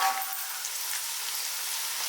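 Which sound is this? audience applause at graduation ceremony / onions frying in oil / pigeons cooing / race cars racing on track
onions frying in oil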